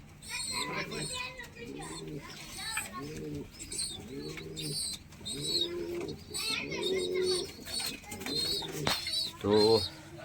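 Pigeons coo in a home loft while feeding their chicks, soft repeated calls mixed with chirpy bird sounds and children's voices nearby, steady and moderately close throughout.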